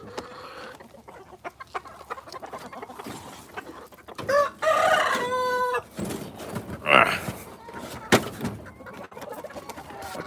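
A backyard chicken clucks and squawks close by, a run of rising calls and rapid clucks over a quieter background, with no talk.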